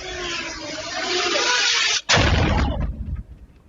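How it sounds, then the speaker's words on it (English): Explosions going off around a Gaza aid flotilla at sea off Greece, recorded on board: a loud sustained rumbling roar, a brief gap, then a second heavy blast that fades out. "more than a dozen explosions were heard around the flotilla as it sailed off Greece late on Tuesday"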